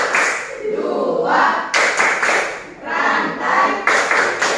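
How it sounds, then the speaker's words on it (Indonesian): A classroom group claps a rhythmic clapping chant for the Pancasila symbols, loud, fast, close bursts of hand claps in uneven phrases with brief pauses between them. "Tepuk simbol Pancasila"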